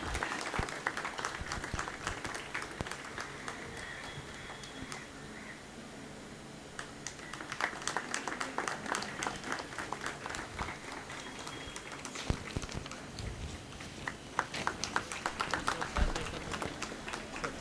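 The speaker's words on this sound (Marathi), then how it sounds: "टाळ्या प्लीज, टाळ्या." An audience claps at an award felicitation ceremony, giving steady, dense applause that runs the whole time with a faint voice now and then underneath.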